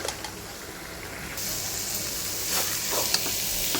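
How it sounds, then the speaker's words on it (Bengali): Spice paste sizzling and frying in oil while being stirred for a dried fish (ghoinna shutki) curry with banana stem, a steady close hiss that grows louder partway through with occasional scraping stirs. "এটা আরও অনেকটা ভাজা ভাজা করতে হবে তেল বের হবে তখন বুঝতে হবে যে রান্না শেষ"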